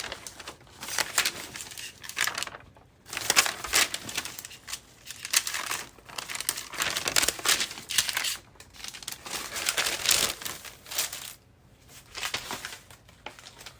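Coffee-dyed copy paper being crumpled and crinkled by hand, close crunchy crackling in repeated bursts with short pauses between handfuls.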